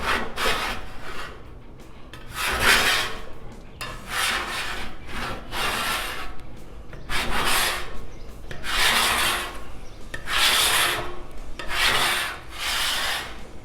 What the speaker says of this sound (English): just got my scraper, super easy. Start scraping.